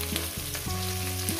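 Onions frying in a pan for a chicken curry, a steady close sizzle with stirring clatter running throughout, no voices.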